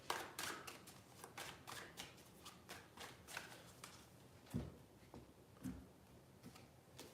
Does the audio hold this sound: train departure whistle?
no